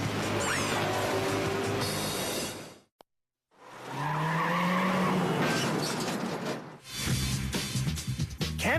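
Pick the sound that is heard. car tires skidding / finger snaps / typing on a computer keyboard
car tires skidding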